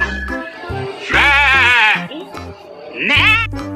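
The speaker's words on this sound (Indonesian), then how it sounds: "Kemudian ada domba." A sheep bleats in several wavering, drawn-out calls with a toy-like quality, alternating with short electronic tones at close, loud level.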